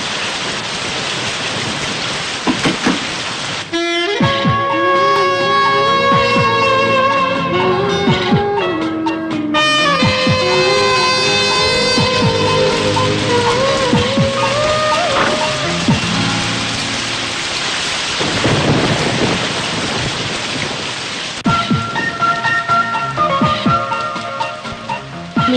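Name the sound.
heavy rain with thunder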